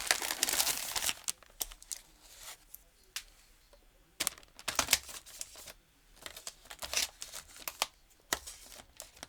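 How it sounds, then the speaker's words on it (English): Plastic film wrapping crinkled and peeled off a Shany Earth Collection nail polish set, heard as close, irregular bursts of crackling with short quiet gaps between them. "It's like this plastic film."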